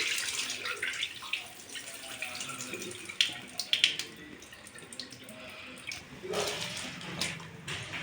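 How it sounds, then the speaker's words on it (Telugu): Water runs and trickles steadily out of a container of soaked basmati rice as it is drained, with splashes and drips near the middle, in a quiet kitchen. "నేను ముందుగా నానబెట్టుకున్న బియ్యం వాటర్ తీసేసి"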